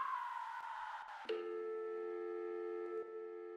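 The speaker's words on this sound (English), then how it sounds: "It was just the phone." A telephone rings inside the video game Lethal Company, a steady electronic tone that cuts in sharply after a noisier stretch and holds level to the end, close and fairly loud.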